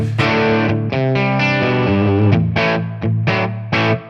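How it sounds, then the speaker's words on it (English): Electric guitar played through a Tonex amp model with boost engaged, at the edge of breakup, strummed chords with slight grit ringing out, then several short choppy stabs near the end. "here on this setting now for boost, we're starting to get into that edge of breakup"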